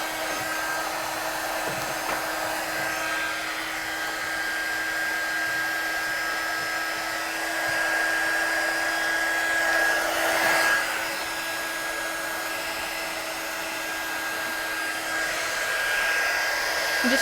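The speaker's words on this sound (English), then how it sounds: "Now, heat embossing, get your gun good and hot." Heat embossing gun blowing hot air over a stamped Christmas card, a loud, steady fan whir with a constant high tone that runs unbroken and close for the full duration, without speech.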